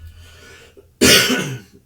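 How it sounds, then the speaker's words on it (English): A single sharp, close cough bursts out after a brief quiet moment, then fades quickly. "Sorry about my cough. I got a bit of a cough."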